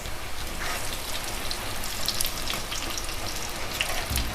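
Nimki dough pieces fry in hot oil in a pan, giving a steady, dense sizzle and crackle that runs unbroken throughout.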